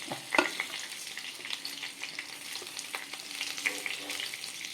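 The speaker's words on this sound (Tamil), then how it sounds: "இந்த சாமான்கள் எல்லாத்தையும் இதில் கொட்டுறோம் கொட்டி இதை வறுக்கணும்" Spices are dry-roasted in a pan for a no-onion, no-garlic poricha kootu, giving a steady crackling sizzle with quick stirring scrapes throughout. No voice is heard.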